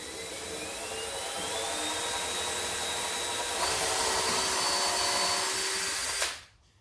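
A power drill whines continuously at high speed while drilling holes in a wood countertop, its pitch shifting slightly as it bites into the wood, then stops abruptly near the end.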